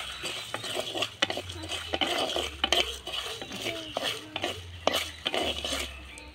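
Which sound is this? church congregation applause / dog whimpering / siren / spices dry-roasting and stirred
spices dry-roasting and stirred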